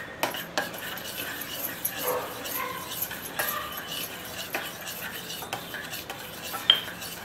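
Homemade black hair dye powder being stirred into a mixture in a bowl, with scraping, clinking utensil strokes repeating at an uneven pace, close and fairly quiet with no talking.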